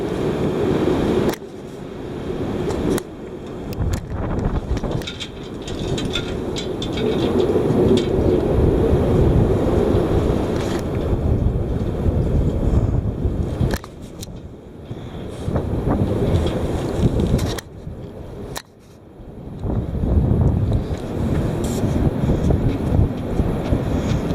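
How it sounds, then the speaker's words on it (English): Heavy wind buffeting an outdoor microphone, a loud continuous roar that swells and drops in strong gusts, with brief lulls between bursts. "Here it is, the heavy wind."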